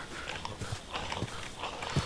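A dog barks a few times in a Minecraft-style adventure game, short sharp yelps repeating over game noise and footstep-like clatter, moderately close and fairly loud.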